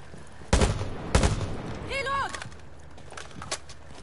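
Gunfire from a bomb-defusal match in a PS4 shooter game, with two sharp, loud shots about half a second apart, each ringing briefly. A short whistling tone and a later faint shot follow.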